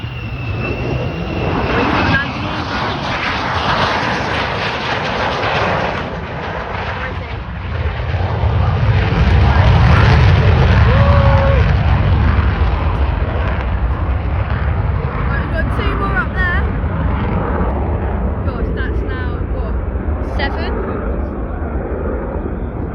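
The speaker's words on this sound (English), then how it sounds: "Seven F-35s. This is now the 5th one coming into." An F-35 Lightning fighter jet arrives at RAF Lakenheath, its engine roar swelling to a loud rumbling peak midway and then fading off, with people talking over it throughout.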